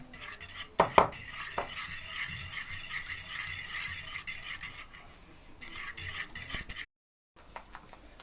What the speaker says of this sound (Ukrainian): постійно помішуючи, щоб воно ніде не пристало.